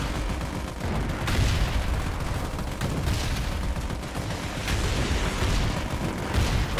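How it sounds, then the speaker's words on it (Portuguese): Constant battlefield explosions and gunfire from the military strategy game Forward Defense, a dense, steady roar of blasts and shots layered over one another, moderately loud throughout. "Cara, é explosão pra tudo quanto é lado, gente"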